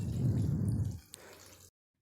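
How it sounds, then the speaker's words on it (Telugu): Water is poured into a pan of fish and brinjal curry, a close splashing pour for about a second followed by a few quieter drips and trickles before it stops. "ఇప్పుడు వాటర్ అయితే యాడ్ చేసుకుందాం"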